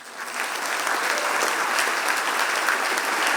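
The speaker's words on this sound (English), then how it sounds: "big, big round of applause" Sustained applause from an audience at a wildlife award ceremony, a dense steady clatter of many hands clapping continuously at a fairly loud level throughout.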